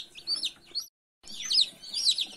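High, thin peeping of many newly hatched chicks, a busy overlapping chorus with a brief pause in the middle.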